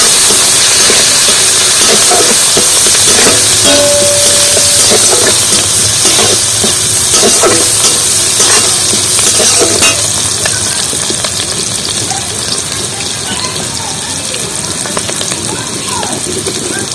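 Chopped ginger, garlic, onion and green chili dropped into hot oil, giving a loud, continuous hissing sizzle that holds steady for the whole stretch, with a voice speaking over it.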